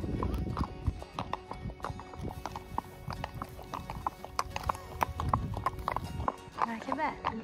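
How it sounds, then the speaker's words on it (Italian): Camargue horses and a foal in an outdoor paddock in the Ferrara countryside: hooves clip-clop in a brisk irregular rhythm close by, with occasional neighs, while people talk over them. "Un puledrino qua nel loro paddock, qua fuori, cavalli della Camarca."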